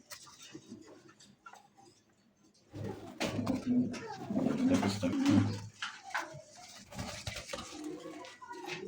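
A black checker pigeon gives a run of deep, rolling coos close by after a quiet start, with a soft ticking in the background and faint voices.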